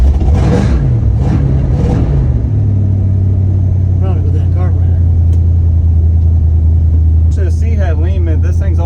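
An old Plymouth SUV engine runs and rumbles loud and close at a steady low idle. Someone talks over it at the start and again near the end.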